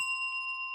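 A single bright bell chime rung during a cars-and-coffee livestream, its steady ringing tones sustained clearly and evenly through the short clip with no talk over it.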